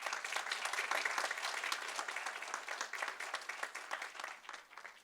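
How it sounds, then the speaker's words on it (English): Audience applause at a school board meeting, a sustained wash of many hands clapping that swells early and then slowly tapers off near the end. "Let's give him a round of applause."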